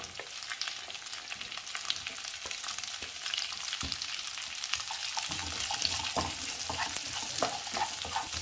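Cubed medium onion sautés over a high flame in a pan with ginger and garlic that have already wilted. Steady, close sizzling and frying crackle runs throughout, with occasional stirring scrapes and a fuller sizzle in the later part.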